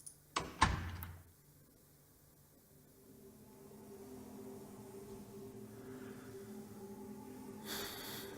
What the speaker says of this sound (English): pushed the soundproof door open with her shoulder